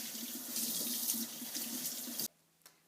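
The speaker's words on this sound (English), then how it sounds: "we're just going to wash all this rhubarb really good" A kitchen tap runs steadily while rhubarb is washed beneath it, with a close, even hiss of water that cuts off abruptly near the end, followed by a faint drip.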